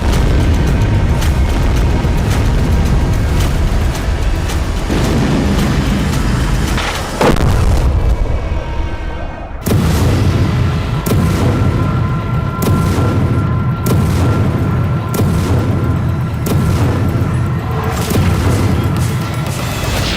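Explosions from a Ukrainian attack in Rostov: repeated loud booms and crashing blasts, one deep detonation standing out midway, followed by a dense, rumbling series of impacts throughout.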